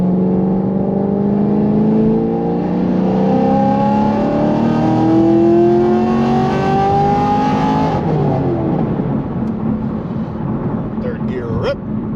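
A 700 HP naturally aspirated LT1 Camaro pulls hard in third gear, its engine note climbing steadily in a loud, rising wail for about eight seconds before the revs drop off.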